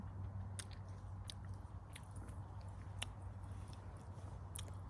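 Crisp bites and chewing on a freshly picked apple from an orchard in Sweden, a few sharp crunches spread over steady moist chewing, close and fairly quiet over a low background hum.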